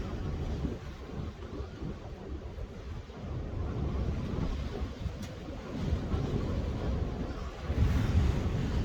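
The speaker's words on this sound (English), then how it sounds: "It's really windy up here at the moment." Strong wind buffets the microphone on an exposed hilltop overlooking Pendle Hill, a steady broadband roar with gusts swelling louder near the end, no voices.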